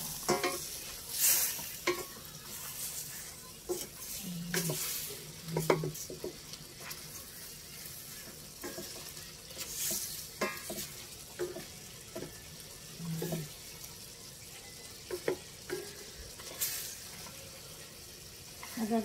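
Chicken adobo with bay leaf, pineapple and egg sizzles quietly in a pan while a spoon stirs it in irregular scraping bursts. The sizzle stays low and steady throughout.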